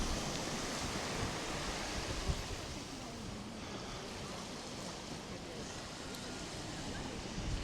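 Steady, dense wash of Mediterranean surf on Kastella beach in Larnaca, Cyprus, a continuous broadband roar of waves with no distinct breaks, fairly even in loudness throughout.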